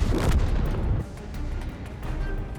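Artillery in the World of Tanks tank game: a heavy booming blast at the start with a rumbling tail, followed by quieter distant thuds and crackles.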